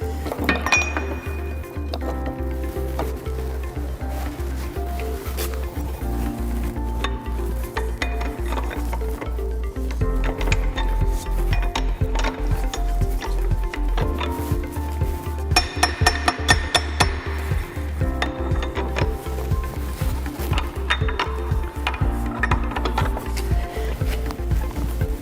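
A shaper machine cuts a metal workpiece held in a vise, giving a steady run of rhythmic metallic clacks and clinks over a low mechanical hum, continuous throughout.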